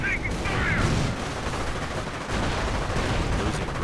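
Automatic weapons fire in a real-time strategy game, aimed at Panzer Grenadiers, rattles in dense overlapping bursts under a steady battlefield din, with no talk heard.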